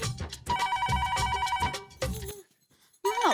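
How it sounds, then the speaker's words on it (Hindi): A telephone bell rings loudly and repeatedly for about two seconds, stops briefly, then starts ringing again. "अभी किसका फोन आया?"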